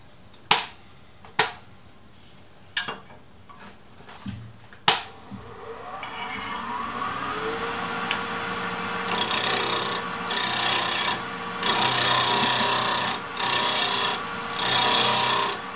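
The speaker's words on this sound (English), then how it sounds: "Right now, I'm just truing up the cylinder." Wood lathe truing up a small cylinder of wood for a drawer pull: several sharp knocks give way to the motor spinning up, then the tool cutting into the spinning wood in loud, rough, rasping bursts.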